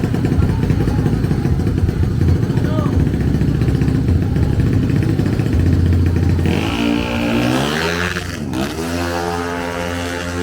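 A drag racing motorcycle engine roars loudly and continuously, revving up with rising pitch toward the end as it accelerates close by at a street drag race.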